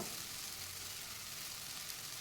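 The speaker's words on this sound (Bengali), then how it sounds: "মশলাটিকে আমি তেলের সাথে খুব ভালোভাবে ভেজে নেব" Ground spice paste frying in oil makes a quiet, even sizzle, a soft continuous hiss with no voices.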